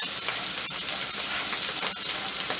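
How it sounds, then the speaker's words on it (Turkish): Butter melting in a frying pan before mussels and egg go in, a loud, steady, dense sizzle crackling evenly throughout with no voices. "Hemen tereyağımı güzelce erittiriyorum"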